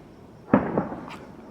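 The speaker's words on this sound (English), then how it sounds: "Someone's even set off fireworks because we finished the LS." Fireworks go off outside at night in Logan, a sharp pop followed by a few softer crackling bursts, somewhat distant and brief over a quiet background.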